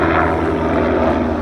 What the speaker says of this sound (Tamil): ஹெலிகாப்டர் டூரா பாரு, மவுண்ட் எவரெஸ்ட் ஹெலிகாப்டர் டூருக்கு போகிறது.